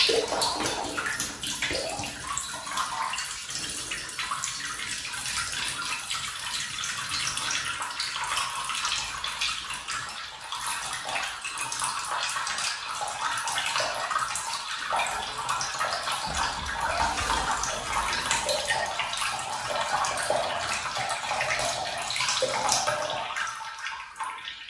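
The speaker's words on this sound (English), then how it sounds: "this water here is just what was left in the radiator itself, the pipes, and the pressure" Leftover water from a removed bathroom radiator and its pipes draining out in a continuous splashing, gurgling trickle, fairly close and steady for the whole stretch with no talking.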